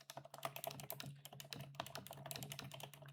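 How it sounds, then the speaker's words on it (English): Rapid keystrokes on a computer keyboard while a description is entered into goals and KPI tracking software, with irregular clicking taps running steadily and close for about three seconds over a faint low hum. "Type in your description."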